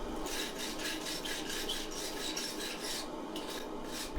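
Borax is rasped and scrubbed off a forge-welded mosaic damascus steel billet in quick, repeated strokes that form a steady scraping rhythm, close and fairly faint.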